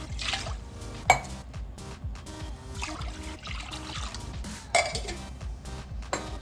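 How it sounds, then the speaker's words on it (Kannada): Two glasses of water are poured into a pressure cooker on a stove, a soft trickling splash punctuated by sharp metallic clanks of vessel and lid, close up with no talking. "ಅದಕ್ಕೆ 2 ಗ್ಲಾಸ್ ನೀರು ಹಾಕ್ಕೊಳ್ಳೋಣ."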